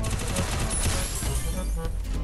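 Dense, continuous bursts of gunfire from the mobile battle-royale game Free Fire, with rapid overlapping shots filling the whole stretch at steady, loud volume and no talk.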